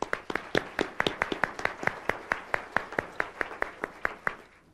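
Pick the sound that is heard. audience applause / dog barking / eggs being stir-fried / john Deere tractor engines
audience applause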